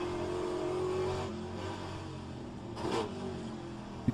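A Pontiac race car's V8 engine at Road Atlanta revs loudly in a sustained roar that swells, eases off, then surges again near the end, heard from close by.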